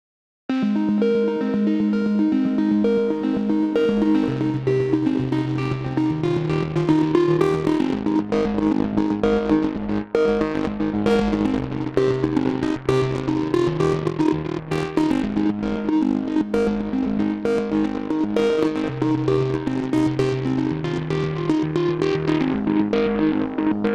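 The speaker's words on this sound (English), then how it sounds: "On the right source, this creates a really awesome, organic, crunchy distortion effect." Music run through the Dynamify audio plugin, carrying a crunchy, organic distortion over sustained tonal notes and percussive hits, continuous and loud for the whole stretch.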